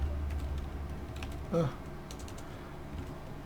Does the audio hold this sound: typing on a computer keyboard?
yes